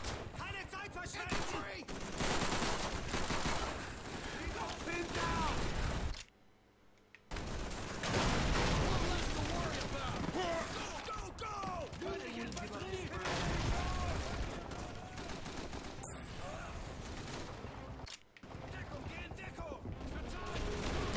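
Sustained gunfire from Call of Duty 3, dense and loud through most of the stretch with a brief lull, running under frequent talking.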